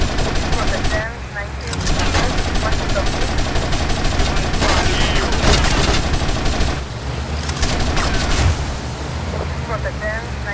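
Heavy gunfire in GTA: Vice City, a loud, continuous barrage of shots with a brief lull partway, mixed with game music and a voice shouting.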